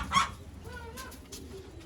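A grey pigeon hen calls softly in a few short, faint, tonal notes, with a brief louder rustle near the start over low background noise.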